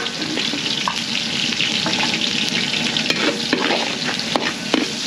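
Garlic and onion sauté in a pan for a Filipino pork menudo, a steady close sizzle with scattered clinks and scrapes of stirring throughout, no talking.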